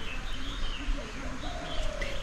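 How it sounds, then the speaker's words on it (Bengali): A dove coos repeatedly at moderate distance along a narrow forest path near Panchalingeswar, Odisha, with other birds chirping faintly around it in a steady outdoor background. "পাখির কাকলি শুনতে পাচ্ছ, একটা ঘুঘু পাখি ডেকেই চলেছে"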